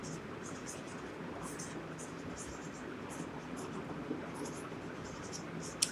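Pen strokes scratch softly across paper as fractions are written out by hand, a string of quiet, uneven scribbles close to the microphone over faint background hiss.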